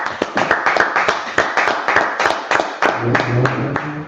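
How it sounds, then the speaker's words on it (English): A congregation claps at a Sabbath service of an Israelite school, a quick run of sharp, close handclaps in uneven rhythm, with a brief low voice near the end. "clap it up"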